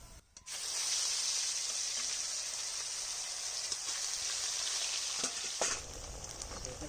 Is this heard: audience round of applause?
no